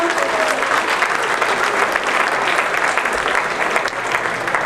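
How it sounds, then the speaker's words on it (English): Sustained applause from an audience at a member appreciation party, steady and fairly loud with no voices over it, filling the whole stretch. "give all of the affiliates a great round of applause."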